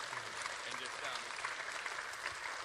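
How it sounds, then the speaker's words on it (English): An audience at a fight-night Q&A in Auckland claps in a quiet, distant round of applause, an even wash of hands with faint voices mixed in. "We can get a round of applause for that"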